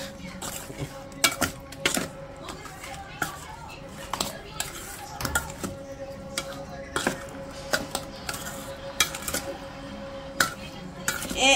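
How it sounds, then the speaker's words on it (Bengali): A ladle clinks and scrapes against a metal pot as chili is stirred, sharp repeated knocks over a low background, with faint speech now and then. "মরিচটা লাগলে পোড়ায় তাই আমি এইভাবে মিলাই হাতা দিয়ে"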